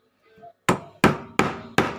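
A mallet strikes a chisel four times at a steady rhythm, cutting a mortise hole in wood. Each blow is a loud, sharp crack, and a few faint quiet sounds come before the first one.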